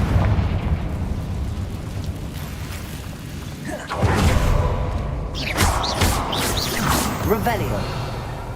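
In Hogwarts Legacy, the Confringo explosion spell goes off in a few booming bursts and pops during combat, louder after the midpoint, with voices and game chatter mixed in.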